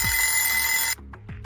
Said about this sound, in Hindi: हम एक अलार्म घड़ी से जागते हैं